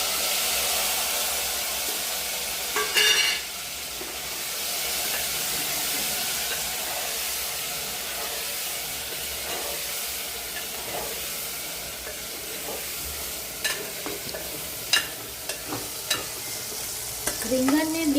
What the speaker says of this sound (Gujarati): હવે આપણે તેલ થોડું ગરમ થઈ ગયું છે, તેમાં થોડી નાખી દઈશું રાઈ, હિંગ નાખી હવે આપણે વઘાર કરીશું